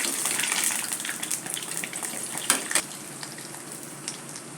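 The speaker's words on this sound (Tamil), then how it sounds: "இப்போ வடை எடுத்து எண்ணெயில் போட்டுக்கலாங்க" Vada frying in hot oil for mor kulambu: a steady, close, bright sizzling hiss with crackles and a few sharper pops near the middle, and no voices.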